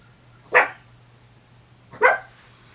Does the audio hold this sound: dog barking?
yes